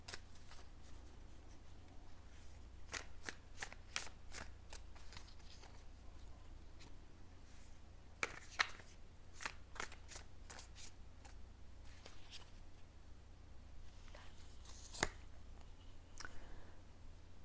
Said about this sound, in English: I've already pre-shuffled my cards, but I like to give them a little extra shuffle